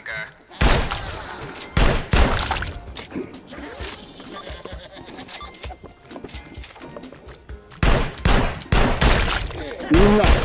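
Repeated loud gunshots in the VR shooting game Shooty Fruity, fired in scattered bursts across the stretch with busy game sounds between them.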